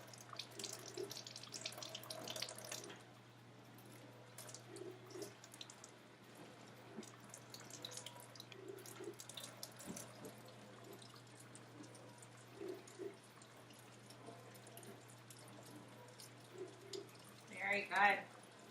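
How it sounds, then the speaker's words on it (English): Water runs from a tap during hand washing, a soft steady flow with a burst of splashing near the end, and a person speaks intermittently over it. "Good turning on water."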